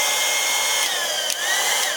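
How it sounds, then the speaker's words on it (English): A loud, steady blowing whine from a heat gun drying glue on paper, running continuously with slight shifts in pitch. "use your heat gun while you're doing that, because heat gun will help"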